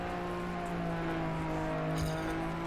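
A loud, steady engine drone with a constant high whine holds throughout, a rally car engine in the video game TrackMania revving hard with no voices.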